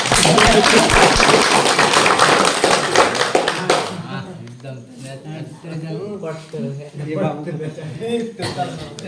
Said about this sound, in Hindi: दीदी के लिए जोरदार ताली बजाओ एक बार